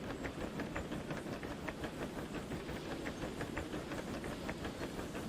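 A steam locomotive hauls an oil train in the Derail Valley video game, a steady loud rumble and hiss with rhythmic clicking of wheels running over rail joints. The sound is continuous and carries no speech.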